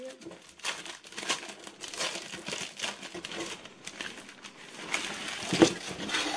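A craft-supply package from a Stampin' Up autumn/winter collection is opened, its crinkly plastic wrapping crumpling and rustling in bursts close by, with a sharper crackle near the end.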